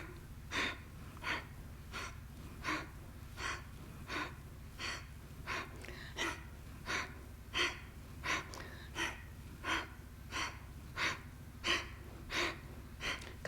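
Forceful rhythmic breaths during a twisting exercise, about twenty sharp close huffs at a brisk even pace over a faint background hum, no speech.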